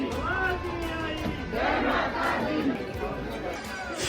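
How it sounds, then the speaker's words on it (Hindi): A crowd of devotees at the Mansa Devi temple in Haridwar on New Year, a loud, continuous roar of many voices calling out together, with scattered individual shouts rising above the mass. "हरिद्वार में मां मनसा देवी के दर पर भक्तों की भीड़ पहुंच रही है।"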